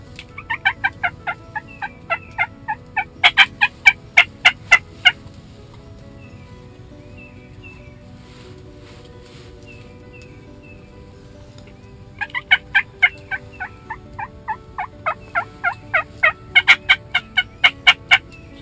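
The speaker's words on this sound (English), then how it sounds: "we heard some turkeys off in the distance" Repeated gobbles from distant wild turkeys ring out in rapid bursts, a first flurry, a few seconds of quiet, then another run of gobbling; no one speaks.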